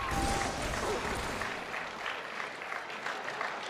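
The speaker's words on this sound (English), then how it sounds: "the teammates clapping on there" Teammates clap after winning a game in a 2010 video game tournament match in Dallas, a brief burst of applause from a small group that is loudest at the start and thins out within a few seconds.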